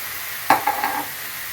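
Cumin and pepper being stirred into fresh tomato sauce sautéing in a pan: a quick scrape of the spoon followed by a couple of softer stirring strokes over a steady, gentle sizzle.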